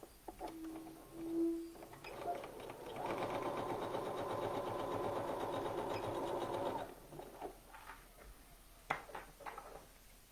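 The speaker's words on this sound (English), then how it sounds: "we're sewing these seams with a 5/8 seam allowance" A home sewing machine runs a seam at a 5/8 seam allowance while making the Lauren top, one steady mechanical whirring burst of about four seconds, with quiet handling noises before and after.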